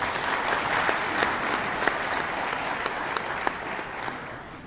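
Steady applause from an audience at a closing ceremony for a ministry of grassroots development, with sharp individual claps standing out from the dense sound. It is moderately loud and continuous, with no voices.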